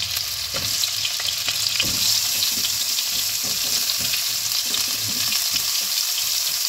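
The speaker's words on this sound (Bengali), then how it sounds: "এবার আলুটা একটু ভালোভাবে নেড়ে ছেড়ে আমি একটু ভেজে নেব।" Potato pieces fry in a pan for a kohlrabi curry, giving a steady sizzle with soft scraping stirs scattered throughout.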